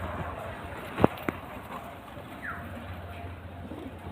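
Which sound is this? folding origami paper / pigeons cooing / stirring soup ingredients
pigeons cooing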